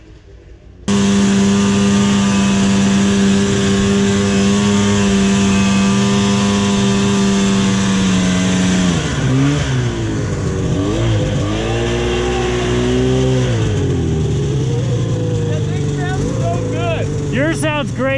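A 1978 vintage snowmobile engine idles with a strong steady drone, then revs up and down in several surges as the machine pulls away, loud and close with voices talking over it.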